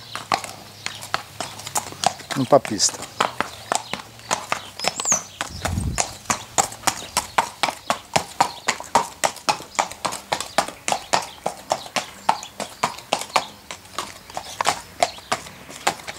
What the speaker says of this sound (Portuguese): Cavalo puro sangue lusitano, bem manso.